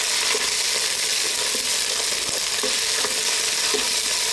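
Onion sizzles steadily in a hot pan for chicken tomato pasta, a continuous bright crackle with occasional soft stirring taps.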